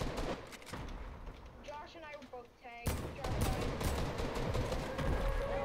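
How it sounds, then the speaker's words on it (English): Enemy gunfire in a shooting video game, bursts of rapid shots crackling loudly, especially in the second half, mixed with game effects and voices talking over the action. "They're firing at us, Josh."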